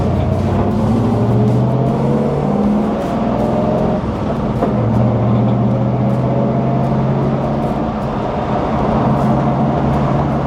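1941 Ford F-100 custom pickup with a 289 V8 driving and downshifting through a synchronized transmission, a steady loud engine rumble with pitch shifts and revs around the gear change, heard from inside the cab.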